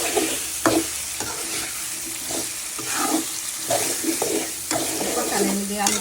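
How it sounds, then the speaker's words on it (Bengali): Potatoes stirred and sautéed with masala in a pan while making a spiced liver curry, a steady close sizzle with scraping spoon strokes and occasional clinks. "মশলাটা কষলে আলুটা দিয়ে দিব, দিয়ে দিলাম। আলুটা কষিয়ে নেব।"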